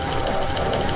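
Chainsaw from the video game Doom, a steady loud buzzing drone with pulsing rhythm filling the whole second, close and continuous with no talk over it.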